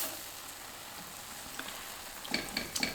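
Teriyaki tofu sizzles and fries in a pan as maple syrup caramelizes, a steady soft crackle with a few brighter spatters and stirring clicks near the end.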